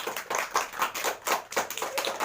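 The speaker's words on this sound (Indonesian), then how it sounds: "tepuk tangan untuk Dinda." Clapping from a small classroom group for a student presenter, a quick run of overlapping hand claps over about two seconds, moderately close and fairly quiet, with no voices over it.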